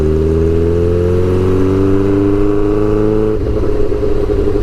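A Suzuki GSX-R600 motorcycle engine revs steadily, its pitch climbing loud and close before changing abruptly near the end.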